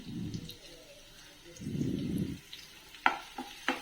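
Cumin seeds and finely chopped onion drop into hot oil, giving short bursts of sizzling with a few sharp clinks of utensils toward the end.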